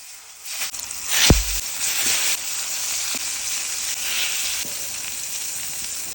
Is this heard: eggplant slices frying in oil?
yes